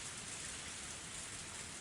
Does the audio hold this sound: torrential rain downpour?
yes